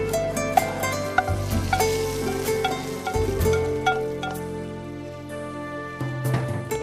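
Cumin seeds sizzle steadily in hot ghee in a pan, a continuous frying hiss with occasional small pops, heard close and fairly loud over a faint steady tonal background, with no talking.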